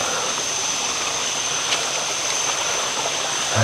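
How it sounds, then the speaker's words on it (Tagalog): Waterfall at a resort campsite in Baler soon after rain, a steady dense rushing of water heard close and loud, unbroken throughout with no talk. "Dahil kakaulan lang. So, andun siguro yung falls."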